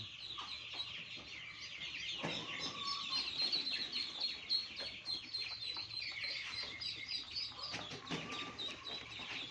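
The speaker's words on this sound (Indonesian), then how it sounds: "Lagi review guys, bebek hibrida." Hybrid ducks chatter close by in a busy flock, giving a constant stream of high, overlapping peeps and calls with a few louder bursts.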